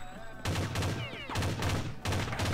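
Rapid bursts of gunfire from a video game shooter, several loud volleys in quick succession with brief gaps between them, with faint speech in the background.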